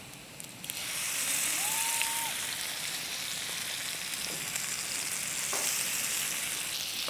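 Fish coated in masala sizzles steadily in hot coconut oil in a pan, a dense continuous crackle and hiss lasting several seconds, with a few faint clinks and no voices.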